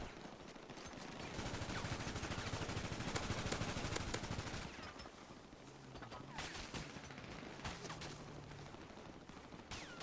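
Gunfire in the multiplayer game FiveM, a dense volley of rapid shots crackling through the first half and then thinning into scattered bursts over a steady background bed.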